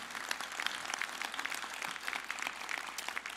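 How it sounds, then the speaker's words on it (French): Applause at a university graduation ceremony, a brief burst of scattered clapping from a seated crowd heard at moderate distance. "Oui, une bonne main d'applaudissements."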